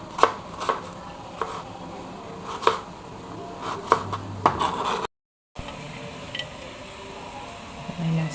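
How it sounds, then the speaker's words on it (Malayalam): A knife chops onion on a board for chicken biryani, giving sharp, irregular close taps at an unhurried pace, then a brief silent gap followed by quieter handling sounds. "ഞാൻ ഈ സവാള ഇങ്ങനെ കട്ട് ചെയ്യാൻ അത്ര എക്സ്പേർട്ടൊന്നുമല്ല"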